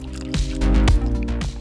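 Water drips from the tap of a water bladder fitted to Mosko Moto soft motorcycle luggage, giving a few short wet drips and squishy splashes over a steady low hum.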